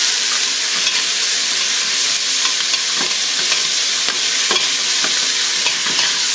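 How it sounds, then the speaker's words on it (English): Onions sautéing in a pan, a loud dense hiss of frying with faint occasional stirring scrapes and clicks, continuous and close, no talking. "So you just want to saute these onions guys"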